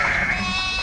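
Sheep bleating on a farm during lambing season, with a ram and ewe flock nearby; a sustained, fairly loud bleat sounds close up, alone and without talk, over a short moment.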